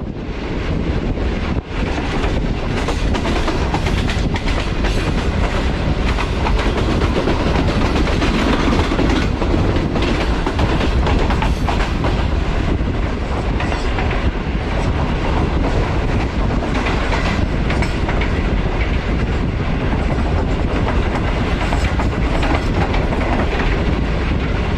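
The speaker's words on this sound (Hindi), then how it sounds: "पन्ना के रेलवे स्टेशन जो है वो हमारी ट्रेन स्किप करने जा रही थी" An express train rolls through Panna railway station, heard from aboard as a loud continuous rumble with clickety-clack of wheels over rail joints and heavy wind buffeting the microphone.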